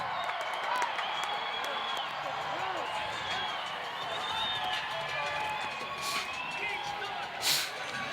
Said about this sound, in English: The crowd appreciates that effort right at the end of the game.